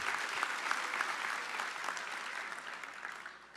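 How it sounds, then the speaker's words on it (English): Audience at a veterans organization business session applauding, a sustained wash of many hands clapping from a large crowd, steady and then slowly fading, no speech over it. "give yourself a round of applause"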